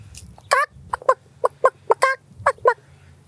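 A person imitates a chicken, voicing a run of separate clucks in an uneven rhythm, close and loud, over a low steady rumble outdoors on a farm.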